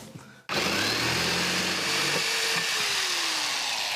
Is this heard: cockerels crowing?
no